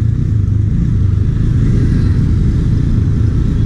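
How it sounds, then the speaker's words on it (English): A Husqvarna Vitpilen 250 motorcycle running low on fuel gives a loud, close, continuous engine drone that wavers slightly in level, with no voices over it. "If the fuel is low, the bike will act like this. So the bike is jerking."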